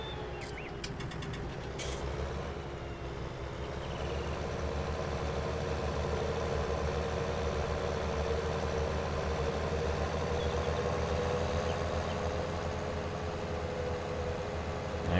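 A small tractor engine in Farming Simulator 19 idles and runs with a steady low drone and a constant hum, moderately quiet and unbroken, with a few brief clicks near the start.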